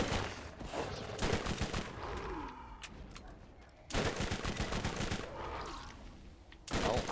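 Rapid gunfire in the Borderlands shooter during a fight with Skags, with loud sustained bursts broken by short pauses and several fresh volleys.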